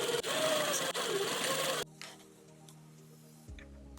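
A sewing machine stitching fabric for an upcycled color-blocked cold-shoulder hoodie: a loud, fast mechanical whir for about two seconds, then it stops, leaving quiet hum and faint clicks.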